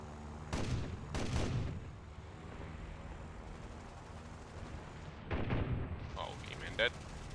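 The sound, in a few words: aircraft cannon fire in the video game War Thunder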